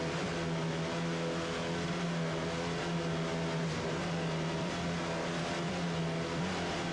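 Offshore racing powerboat engines roar together at the start of the 1993 Virginia Beach Offshore Grand Prix, a loud, sustained droning growl with steady low harmonics and no pauses throughout.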